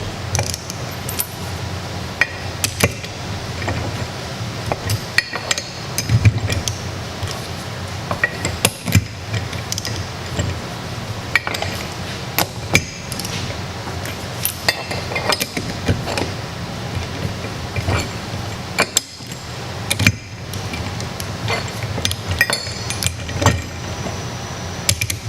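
A wrench tightens the nuts on a Jerguson transparent level gauge to 5 foot-pounds, giving a series of sharp metallic clicks and clinks over a steady low hum, with tool taps spread through the whole stretch.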